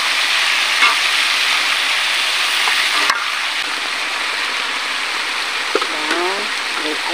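Village vegetables with yellow pumpkin fry in a pan, a loud, dense, continuous sizzle with occasional stirring knocks and a brief voice near the end.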